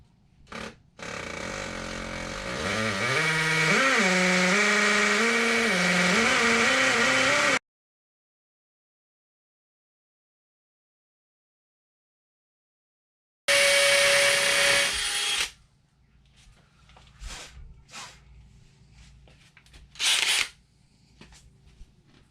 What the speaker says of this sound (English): Let's go ahead and drill that out.